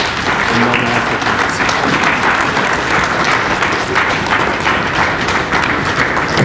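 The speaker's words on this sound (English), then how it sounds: "Another round of applause." Audience applause after a speech at an inaugural lecture, dense sustained clapping from a large crowd throughout, loud and steady with a brief low vocal tone near the start.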